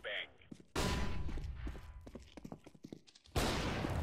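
Counter-Strike gunfire on the Tuscan map: two loud, broadband shot blasts, one early and one near the end, with quieter clicks, footsteps and someone speaking in between.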